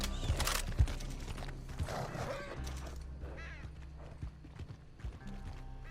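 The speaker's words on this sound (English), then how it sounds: "The horse is like acting crazy right now." A horse in the video game Red Dead Online acts up, with hoof clip-clops, a whinny and creaking tack over quiet game ambience.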